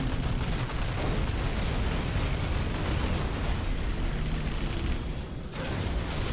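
A Spectre gunship strike in a video game fills the scene with continuous heavy explosions, a dense rumbling barrage of booms and bursts that dips briefly near the end.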